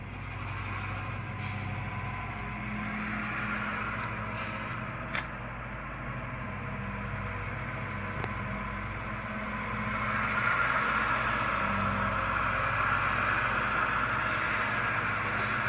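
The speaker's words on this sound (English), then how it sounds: "you'll hear when the engine speeds up automatically" Small model railroad locomotive running on track with its engine sound rising as it speeds up under load, a steady continuous drone that swells louder near the end.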